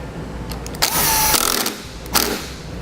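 Power tool driving a screw back into a clip on a Roadmaster crossbar-style base plate for a 2015 Ford Fiesta, two short buzzing whirrs, close and loud, with a faint ticking before them.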